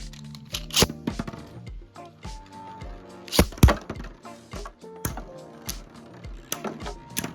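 Beyblade spinning tops, including a Galux with a red weight disc, clashing in a stadium, with loud sharp plastic impacts and rattling collisions coming in irregular bursts, including a couple of big hits, and no voices.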